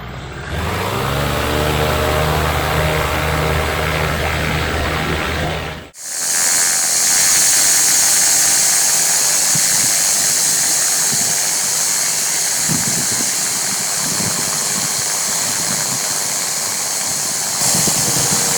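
Microlight aircraft engine at takeoff power on a solo navigation flight, loud and steady: a lower idle-like drone for the first few seconds, a brief dip, then a sustained, full-throttle roar close up.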